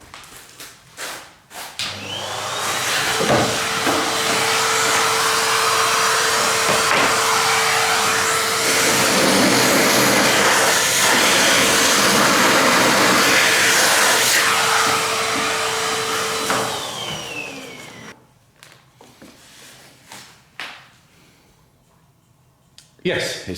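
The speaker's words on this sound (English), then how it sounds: "Let's see whether we can vacuum that out." A vacuum cleaner roars steadily and close for about fifteen seconds while cleaning out part of an 1865 Forster & Andrews pipe organ under restoration, then cuts off, leaving faint knocks and handling sounds.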